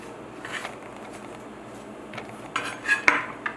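Chopped herbs for summer rolls tossed together in a bowl: soft, quiet rustling and scraping with a few light clinks of utensil against the bowl, growing busier toward the end.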